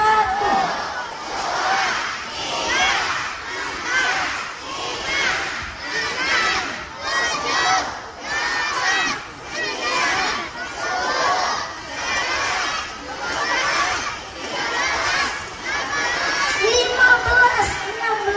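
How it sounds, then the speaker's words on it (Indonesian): A crowd of children at a dolphin show in Ancol, Jakarta chants numbers aloud in unison, loud rhythmic shouts about one per second, repeated steadily throughout. "semua penonton, bantu hitung suara yang keras,"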